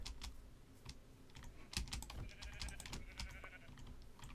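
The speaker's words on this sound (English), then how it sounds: "Ah, sheep." Sheep bleating in Minecraft, short faint bleats mixed among rapid keyboard typing clicks at close range.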